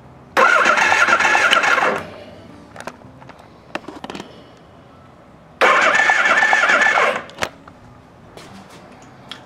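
Suzuki GS550 motorcycle engine cranked over without fuel for a spark check, two loud starter bursts of about one and a half seconds each, separated by quiet pauses with faint clicks and clanks from the workshop.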